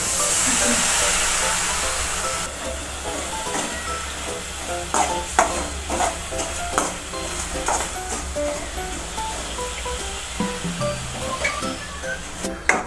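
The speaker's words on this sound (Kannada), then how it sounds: "ಇದನ್ನು 1 ಎಳೆ ಪಾಕ ಬರುವವರೆಗೂ ಕರಗಿಸೋಣ. ಸ್ವಲ್ಪ ನೀರನ್ನು ಹಾಕೋಣ." Jaggery dissolving in a little water in a pan over a gas flame, stirred steadily for rice-flour modak. A spoon scrapes and taps the pan in irregular strokes over a soft, continuous sizzle, close by.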